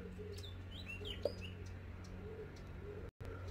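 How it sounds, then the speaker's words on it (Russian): A few small birds chirp and tweet faintly in the distance in springtime France, against a low steady background hum, with no voices. "Слышите, как у нас поют птички?"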